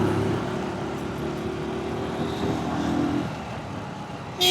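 Road traffic jams the street near a station subway, a steady close engine rumble and idling hum that eases slightly partway through before a sudden louder burst at the end.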